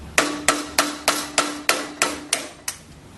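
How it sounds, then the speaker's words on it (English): A hammer gently taps a screwdriver to work a pump cover loose, giving eight evenly spaced, sharp metallic knocks about a third of a second apart, close and clear with nothing else heard. "using your hammer, gently tap until the pump cover has been removed"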